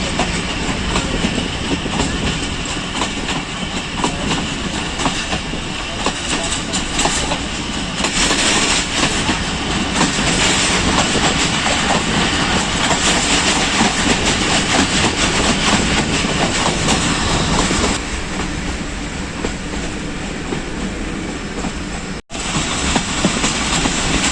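Kohat Express passenger train running steadily on rails as it leaves the hills for the plains toward the Indus, a loud continuous rumble with rhythmic clickety-clack of wheels throughout and a brief dropout near the end.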